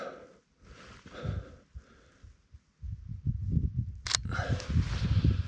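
A single camera shutter click during a hike photo shoot in Snowdonia National Park, one sharp close snap heard amid quiet breathing and outdoor rustle.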